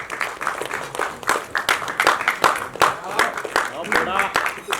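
Audience applause for a music composer at a Marathi film cast reunion party, a ragged burst of clapping with scattered hand claps mixed with voices and crowd chatter throughout.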